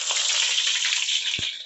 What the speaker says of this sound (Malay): Kita tumiskan, masukkan serai.